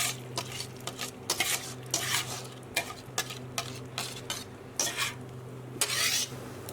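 Gelatin mixture is added to a pot of simmering sugar syrup while making Turkish delight, giving a low steady bubbling hum broken by irregular soft clinks and splashy stirring bursts, with no talking.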